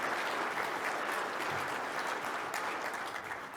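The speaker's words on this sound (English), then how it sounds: "That's a round of applause." A crowd applauds for the New York State Teacher of the Year at an agriculture event, a sustained wash of clapping that stays even throughout and tapers slightly at the end.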